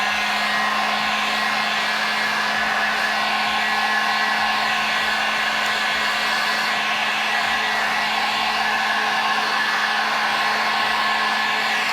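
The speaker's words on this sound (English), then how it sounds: "Now, once again, add the heat back to it." A heat gun blows on vinyl wrap on a Yamaha Warrior 1700 motorcycle, giving a loud, constant whirring roar with a steady tonal hum that runs unbroken throughout.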